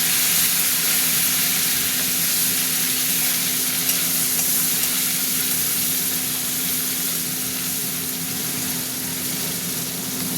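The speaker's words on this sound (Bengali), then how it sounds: "টমেটোর সাথে চিংড়ি মাছগুলো দিয়ে দিচ্ছি। টমেটো ভাজা হবে, চিংড়ি মাছটাও ভাজা হবে" Shrimp frying with tomato in a pan, a continuous close sizzle with faint stirring and a steady low hum underneath, no talking.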